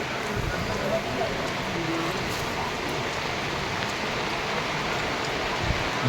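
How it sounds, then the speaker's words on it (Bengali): Heavy rain falls in a steady, dense hiss of drops hitting surfaces, continuous and fairly close throughout, with a voice faintly present beneath the downpour. "দেখ কত বৃষ্টি, দেখেছিস?"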